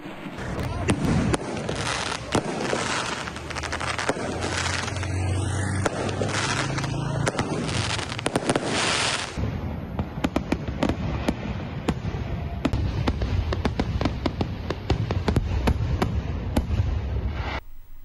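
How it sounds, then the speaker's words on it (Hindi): Fireworks burst over Jinnah Avenue in Islamabad for the 2026 New Year celebration, a dense, continuous crackle of many explosions with booming low thuds, loud and sustained, with crowd noise mixed in. "इस्लामाबाद के जिना एवेन्यू पर साल 2026 को खुशामदीद कहने के लिए शानदार आतिशबाजी।"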